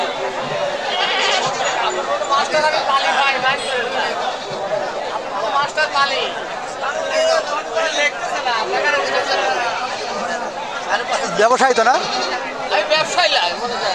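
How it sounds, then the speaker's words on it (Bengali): Goats bleat repeatedly at a crowded village goat market selling local goats, their cries rising over dense chatter and nearby talk. "এই দেখেন কত প্রকারের ছাগল।"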